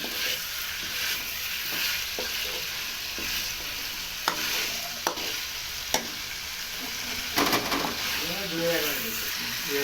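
Egg and potato curry sautéing in a pan, a steady frying sizzle with intermittent scrapes and clinks of a spoon stirring against the metal, and a voice talking over it near the end.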